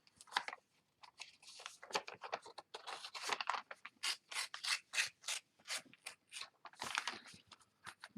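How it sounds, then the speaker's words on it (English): A letter opener slices through a brown paper shopping bag in a quick series of close, crisp rasping and tearing strokes, each cut a short burst, running steadily with no talking. "I like to use my letter opener to cut my bags. So I just slice it down each side."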